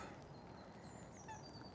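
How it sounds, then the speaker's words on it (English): A duck on a wet day at a pond calls with a few faint, distant honking notes over steady rain or wind noise and surrounding outdoor ambience. "listen at the noise that duck's making there"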